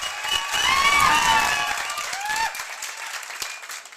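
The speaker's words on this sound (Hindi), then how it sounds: "तो एक बार जोरदार ताली अभिषेक सर के लिए" Loud audience applause at a gurukul opening event, a dense burst of clapping that swells then gradually thins out over a few seconds, with some voices in the crowd.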